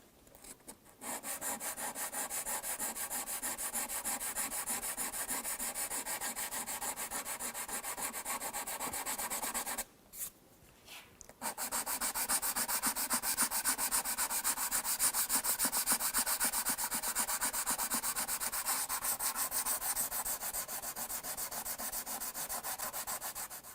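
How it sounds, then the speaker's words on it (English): Hardened super glue on a guitar finish is sanded with a hard Corian block: a continuous close scratchy rubbing with a rhythmic back-and-forth texture and a brief pause midway, with no talk. "You want to keep sanding until that's gone."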